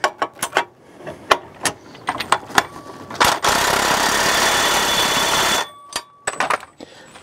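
Fitting a 360 Bandit bracket: a run of sharp metallic clicks and ratchet-like taps, then a few seconds of loud, steady power-driver whir, followed by more scattered clicks close by.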